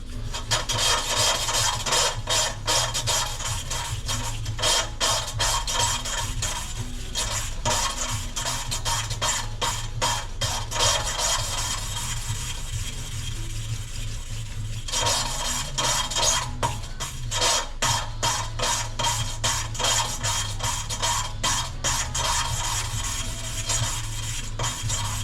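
A valve being lapped into a cylinder head valve seat, a repeated gritty rasping and rubbing in quick back-and-forth strokes, close and steady throughout with a brief pause midway and no talking.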